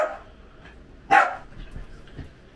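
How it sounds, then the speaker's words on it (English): A small dog gives a single sharp bark close by, standing out from quiet background noise, with a couple of faint softer yips trailing after. "this small little dog making all this sound?"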